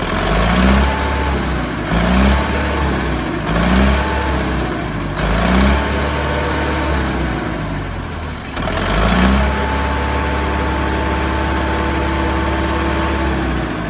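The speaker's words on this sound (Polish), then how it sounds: "Całkiem inny ciągnik, turbinka pięknie gwizda." An Ursus tractor fitted with a straight-through exhaust idles and revs, its turbocharger giving a steady high whistle over a deep continuous engine rumble, loud and close, with the revs rising and falling several times.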